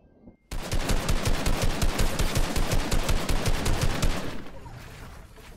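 Sustained automatic gunfire from the Fortnite Battle Royale video game during a 1v1 match, a loud, evenly spaced stream of shots after a brief silence, tailing off into quieter shots near the end.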